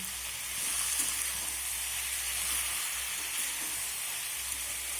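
Vegetables and noodles fry in hot oil with cumin over a high flame while being stirred, producing a steady, even hiss-like sizzle that swells slightly, close up with no speech.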